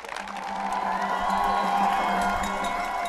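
Large crowd cheering, whooping and calling out over steady applause during the weekly Clap for Carers on a North London council estate, a continuous loud wash of voices and clapping.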